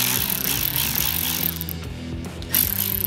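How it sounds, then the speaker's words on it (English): Milwaukee cordless battery-powered electric ratchet running, a loud close mechanical whir with buzzing rattle that holds steadily, dips briefly partway through, then surges again. "It's a battery powered ratchet."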